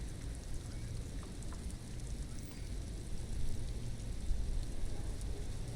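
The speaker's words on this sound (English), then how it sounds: "Stuck in the rain in a traffic jam, man." Steady, soft rain hisses continuously in the video game Disco Elysium, an even wash of drops with no voices and a slight swell toward the end.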